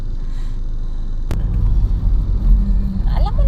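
Car travelling along a road toward a quarry on a drive to Davao, with a steady low engine and road rumble throughout, sitting close and fairly loud, and a brief sharp knock partway through.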